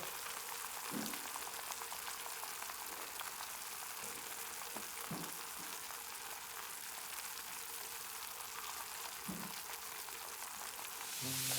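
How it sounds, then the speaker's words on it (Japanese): Lamb and mutton cook in sauce in a Genghis Khan grill pan over a campfire, giving a continuous soft sizzle and bubbling crackle with a few faint pops, steady and fairly quiet throughout. "鍋の中央に肉を並べて、タレを回しかけて煮込んでいく。"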